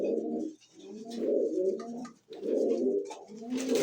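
Pigeons, including Giribaz and Lalgola breeds, coo in close, loud repeated phrases, three low rolling coos with short pauses between them, with no talk.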